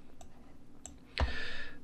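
A few sharp computer mouse clicks in a Matterport 3D tour, faint single ticks followed by a louder click with a lingering hiss, close and without talk.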